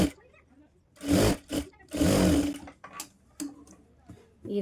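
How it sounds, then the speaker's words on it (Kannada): A sewing machine stitches the back part of a blouse in short, loud bursts of mechanical whirring, separated by pauses, with brief ticks and clicks between the runs. "ನಾನು ಇಲ್ಲೇ ಸ್ಟಿಚ್ ಹಾಕೋತಾ ಇದ್ದೀನಿ"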